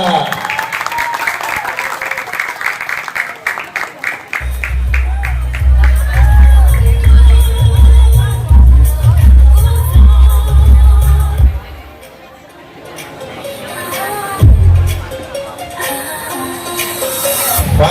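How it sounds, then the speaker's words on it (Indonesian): Crowd applauding and cheering to welcome the hosts at an Indonesian Independence Day vegetarian bazaar at a Maitreya temple, loud clapping and hubbub with shouts, a heavy booming music bed in the middle, then voices over a sound system. "Dengan tepuk tangan yang paling bahagia."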